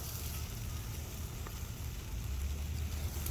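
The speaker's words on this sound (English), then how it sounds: "Sizzling away." Ribeye steaks sizzling on an outdoor grill over a wood fire, a faint, steady hiss and crackle with a low background rumble and no voices.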